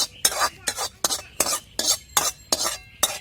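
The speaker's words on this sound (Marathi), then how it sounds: "मी आता ही भाजी एका पातेल्यात दुसऱ्या पातेल्यात काढून घेणार आहे" Cooked safflower-leaf greens scraped from one metal pot into another, giving a series of about seven sharp, close scraping and clattering strokes at a steady rhythm, with no talking.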